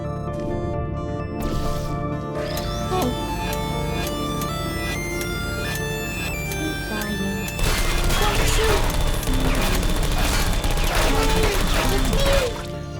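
Turrets in Portal 2 opening fire, rapid bursts of gunfire with sharp crashing and shattering impacts over a steady game backdrop, swelling into a dense, loud barrage in the second half.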